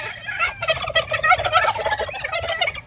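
Broad breasted turkeys gobble loudly and nearly nonstop while eating grapes, overlapping rapid warbling calls from several birds close by, with no voices.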